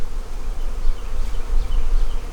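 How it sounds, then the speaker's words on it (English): Bees in a busy hive ready for winter make a dense, continuous buzzing drone, loud and close, with rumbling low noise and no talk. "Woo, this is a busy hive."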